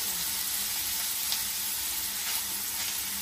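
Paneer and noodles sizzle steadily in a frying pan, a close, even hiss that continues throughout with no talking.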